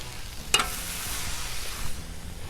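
Butter sizzles on a hot Blackstone griddle with Cajun shrimp and smoked sausage in a steady frying hiss, opening with a sharp metallic tap and then a brief swell of sizzle.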